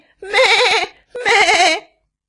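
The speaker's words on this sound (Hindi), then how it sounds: "अपनी मां को देखकर बकरी का बच्चा जोर जोर से चिल्लाने लगा, मैं।" A goat kid bleating loudly, two long wavering cries close by and separated by a short gap, with nothing else heard.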